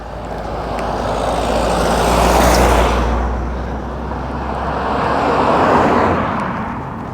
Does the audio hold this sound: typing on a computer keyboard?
no